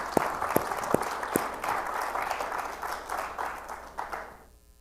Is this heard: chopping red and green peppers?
no